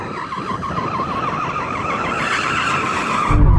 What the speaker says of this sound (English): Before we go, we're going to warm up our tyres because we can.